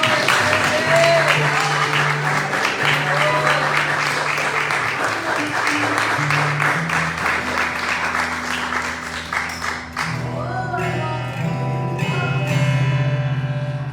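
A church congregation claps loudly and steadily for the worship ministry, dense rhythmic applause mixed with sustained organ or keyboard chords, thinning out after about ten seconds as the music carries on.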